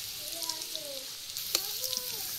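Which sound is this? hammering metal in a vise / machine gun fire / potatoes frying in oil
potatoes frying in oil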